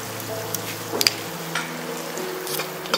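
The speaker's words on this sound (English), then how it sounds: "Give it a mix." Gobi Manchurian sauce with soy sauce and sugar stirred in a pan, a soft steady sizzle with faint scraping and a few light clicks, close but low in level, no voices.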